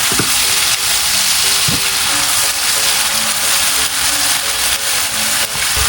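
A blended paste of onion, garlic and ginger fries hard in a pan, a loud continuous sizzle with faint stirring scrapes throughout, no voices.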